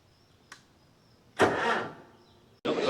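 Farmall Super M tractor engine, freshly rebuilt, on its first start attempt: a brief click, then a loud broadband burst of cranking that fades, followed by another sudden loud surge that continues steadily to the end.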